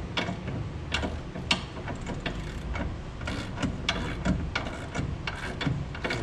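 Ratchet clicking as suspension bolts are tightened on a 1966 Ford Mustang during coil spring and control arm installation, with rapid bursts of ratcheting strokes, fairly close, amid workshop clatter and no talking.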